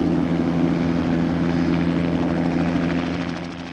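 Helicopter flying on a gas pipeline inspection run, its steady rotor thump and turbine drone loud and close, then fading slightly near the end with no voices.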